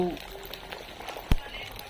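An egg frying in a hot pan, a soft bubbling sizzle with one sharp clack partway through, while someone talks nearby.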